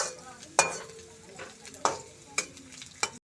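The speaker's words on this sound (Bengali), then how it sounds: "কিছুক্ষণ ভেজে নিতে হবে ভালোভাবে নাড়িয়ে চাড়িয়ে" Garlic cloves stir-fry with black cumin in a wok, a soft steady sizzle broken by four sharp spatula scrapes against the metal, spaced roughly every second or so.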